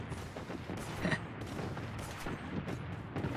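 Gunfire from the KAG rifle in the Blood Strike video game: quick bursts of shots at moderate distance, layered over game ambience, with no clear speech.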